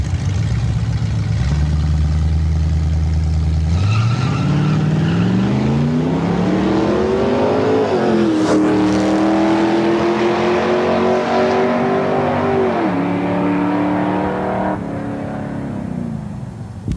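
A 1963 Chevy II drag car with a 327 cubic inch V8 makes a pro-mod drag run, idling low, then roaring loud through rising gear pulls with sharp shifts before the engine note fades at the end.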